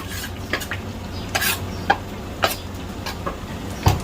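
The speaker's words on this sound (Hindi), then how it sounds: "और गार्लिक को मैं ब्राउन करूंगा।" Crushed garlic frying in butter and olive oil in a wok: a steady soft sizzle with intermittent clinks and scrapes of a spoon stirring against the pan.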